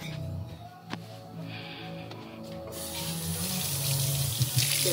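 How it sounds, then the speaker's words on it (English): Steady rush of running tap water into a kitchen sink as a spatula used for hamburgers is rinsed, with a sharp clink early on and the flow growing louder and brighter partway through. "Need to rinse this spatula off."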